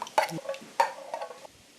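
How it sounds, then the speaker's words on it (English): Tallow boot polish paste being stirred in a pot, giving a few close scraping, clinking strokes of a spoon against the metal in short bursts, with quiet pauses between. "Give that a bit of a stir."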